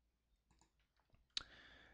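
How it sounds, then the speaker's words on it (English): Single mouse click on a clipboard button in a GitHub page, a sharp close tap following a few faint soft clicks, then a fading higher-pitched ring. "We're just going to click on the little clipboard"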